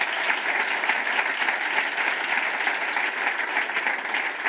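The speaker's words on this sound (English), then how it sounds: "Round of applause for being brave and helping us out." Audience at a coaching and embodiment talk clapping together, a steady, even wash of applause from a room of people with no break.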